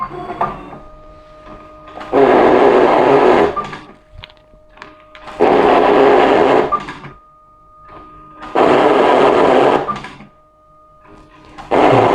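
Pointman N20 card printer running its automatic cleaning cycle with a cleaning card, a loud close mechanical whirring that swells and stops in repeated bursts of about two seconds, separated by quieter clicks and hum, with no voices.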